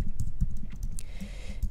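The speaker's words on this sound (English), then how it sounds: "So here I'm going to type in Lego man," Someone types a search on a computer keyboard, a quick run of close, crisp key clicks in an irregular rhythm with no talking.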